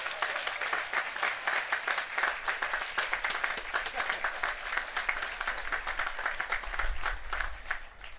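A crowd at a high school graduation ceremony applauds steadily, dense clapping rolling on without a break, fairly loud, with a few voices mixed in.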